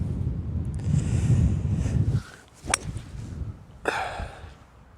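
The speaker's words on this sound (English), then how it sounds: "3 wood, 205 yards to the middle, strong wind into face." Strong wind gusting across an open golf course at Crieff in Scotland, buffeting the microphone in loud rumbling bursts for about two seconds before easing, then returning in shorter whooshes.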